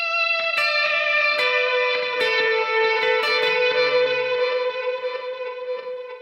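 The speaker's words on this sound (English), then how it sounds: "Turn on some reverb." Electric guitar through a Headrush effects unit with reverb switched on: a few picked notes and chords ring out and trail off into a washy, sustained tail, with no talking.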